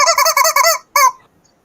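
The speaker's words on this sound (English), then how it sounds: "You're just hearing her in the background, kind of just chomping up this rubber chicken" A dog chewing a squeaky rubber chicken toy, which gives out a rapid run of loud, close honking squeaks, then a brief gap and one last squeak.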